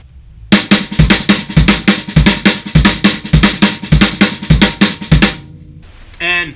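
Fast repeating drum lick of right hand, left hand, kick with accents on the first and third notes, a steady stream of sharp hits played close and loud, followed by a brief pause and a short tonal sound.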